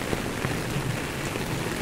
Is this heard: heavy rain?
yes